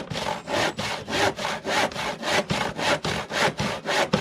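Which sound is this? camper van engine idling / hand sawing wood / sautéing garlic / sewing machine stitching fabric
hand sawing wood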